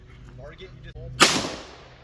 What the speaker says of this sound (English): I'm going to shoot 2 more and see if we get a difference here.